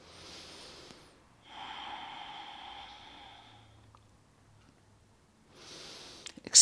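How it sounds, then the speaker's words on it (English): Slow, deep breathing while a yoga warrior 2 pose is held, several long, close, airy inhales and exhales spaced by quiet pauses. "Hold it in warrior 2 for 3 deep breaths."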